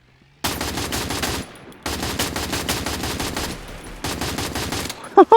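M4 rifle gunfire in the Free Fire battle royale game, three long sustained bursts of rapid automatic fire separated by brief pauses, loud and close, ending with a couple of sharp clicks.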